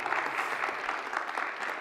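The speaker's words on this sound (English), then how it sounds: "Applaud for them." An audience at a university AI and society forum applauds, a brief, fairly faint wash of many hands clapping with no talk over it.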